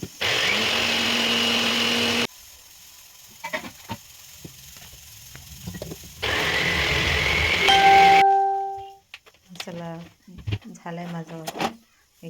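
A kitchen mixer grinder whirs loudly, grinding masala into a fine paste in two separate bursts, with a short chime and talking in between and after.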